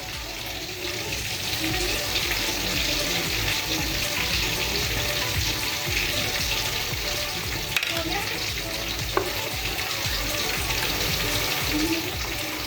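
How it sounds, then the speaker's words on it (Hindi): Chicken sizzling as it fries in a pan for a steam roast, a dense, continuous crackle and hiss that runs throughout, with occasional clinks and scrapes of cooking utensils. "बाकी का चिकन भी हमारा फ्राई हो रहा है"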